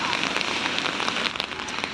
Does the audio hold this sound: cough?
no